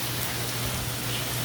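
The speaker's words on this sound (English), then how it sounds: "Rain." Steady rain falls through trees onto an RV during a tropical storm with high winds, a continuous even wash of drops with no voices.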